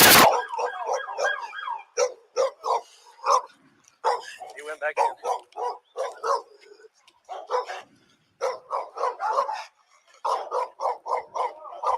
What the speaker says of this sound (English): Dog's tail's wagging.